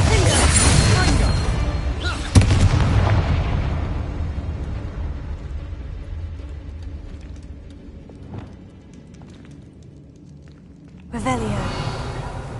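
Spell explosions from the Confringo fire spell in the video game Hogwarts Legacy: a sharp burst near the start, a louder blast a couple of seconds in that decays into a long rumble, then another burst near the end, all over continuous game noise.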